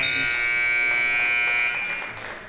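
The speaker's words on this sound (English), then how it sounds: "So buzzer sounds there for period 2." A loud, sustained electronic buzzer blares steadily for about two seconds, ending a period of a wrestling match, then cuts off into crowd noise.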